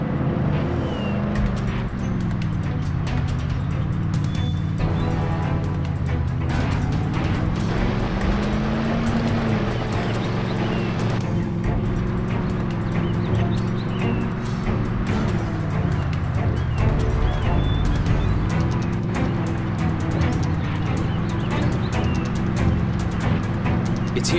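A car's engine drones steadily throughout the video game Call of Juarez: The Cartel, with a continuous low road rumble, slight shifts in pitch, and no talk over it.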